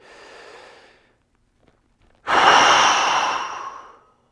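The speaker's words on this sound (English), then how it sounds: "sit down, and take big deep breaths in." Deep breathing during a seated breathing drill: a soft exhale, a pause, then one long, loud, close inhale or sigh lasting nearly two seconds, with no talking.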